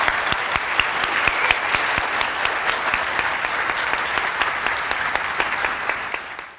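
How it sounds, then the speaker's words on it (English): An audience at the Central Illinois regional Poetry Out Loud contest applauds the participants: a dense, steady round of clapping that fills the room for several seconds before tapering off at the end. "let's have a real round of applause for everybody here"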